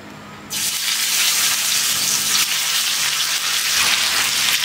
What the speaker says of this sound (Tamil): இப்போ மீன் வந்து பொரிச்சிக்கிறேன்.